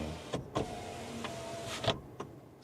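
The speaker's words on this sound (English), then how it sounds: "here, this is the window control" The electric window motor of a 2024 Dacia Spring whirs briefly, with faint clicks and a soft thump as the switch is pressed and the glass moves, heard from inside the small car.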